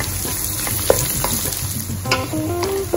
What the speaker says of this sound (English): let's add the roughly chopped onions to it